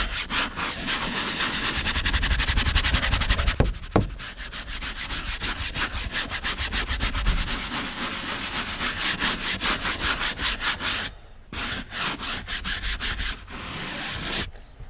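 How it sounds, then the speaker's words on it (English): A basic scrubbing brush works briskly over car interior upholstery, rapid close back-and-forth strokes forming a steady rhythmic scratching that pauses briefly near the end before resuming. "just run over it, give it a scrub"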